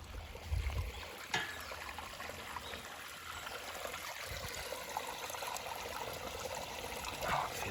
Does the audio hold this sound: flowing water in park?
yes